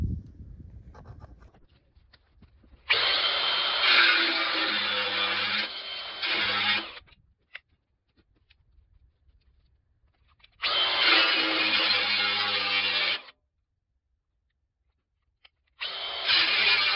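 A power tool cuts through a mini excavator's steel roll bar in loud, steady bursts of several seconds each, separated by quiet pauses.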